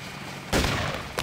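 A sharp gunshot bursts through steady background noise in the video game Deus Ex, with a smaller report close behind it and no talking.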